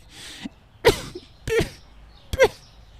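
A small, round, green one-eyed alien creature coughs four times in short, rough, close bursts spread across a few seconds, apparently voiced by a person imitating the creature.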